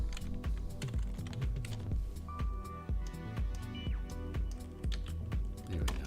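Rapid, close-up typing on a computer keyboard, a busy stream of crisp key clicks with a faint electronic tone briefly sounding in the background.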